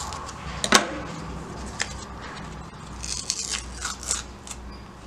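Old wrapping peeled back from a Cosmoline-coated WW2 M1 Carbine magazine, close crinkly tearing and crackling in short bursts, with one sharp rip near the start and softer papery rustles after.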